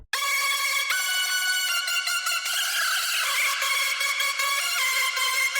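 The first layer of a hardstyle lead synth built in FL Studio, a bright buzzing tone with mono legato and sliding notes, playing a sustained melodic phrase with several short gaps, alone and steady.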